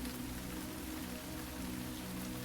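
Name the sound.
steady rain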